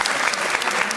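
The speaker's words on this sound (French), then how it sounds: "Est-ce qu'on peut applaudir pour le propriétaire de ce lieu" Wedding guests applaud, a dense, steady burst of hand-clapping filling the whole short moment, fairly close and even in loudness.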